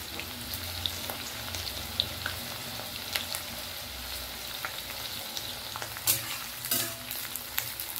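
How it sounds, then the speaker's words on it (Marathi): Sliced garlic with onion crackles and sizzles steadily in hot oil in a pan, a dense continuous hiss with a few sharper pops near the end. "आता ही चांगले फ्राय करून घेऊ"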